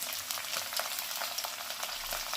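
Potato and bean pieces fry in a pan for a vegetarian sago pulao, giving a steady, moderately loud hiss and sizzle with small crackling pops throughout.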